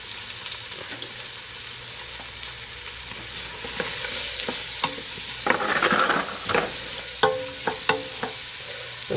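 One large chopped yellow onion sizzles in rendered fat for clam chowder, a steady close fry with spoon scrapes and stirring clatter building louder in the second half, no voices.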